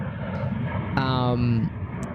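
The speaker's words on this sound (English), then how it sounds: "standing here on the rocks watching these massive planes take off" Massive passenger jets take off from an airport beside the water, heard from rocks nearby as a continuous engine roar with a rising whine, under steady outdoor noise.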